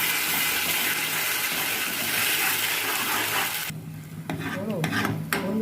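Poppy seed, coconut and pointed gourd paste being stirred and fried in a pan gives a steady broadband sizzle with scraping strokes, easing off after a few seconds into quieter scrapes and clatter of the spoon.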